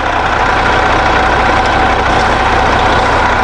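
A Detroit Diesel Series 60 12.7-liter inline-six idles in a 2004 Prevost H3-45 highway coach, a loud, steady low rumble heard close up and alone for the whole clip.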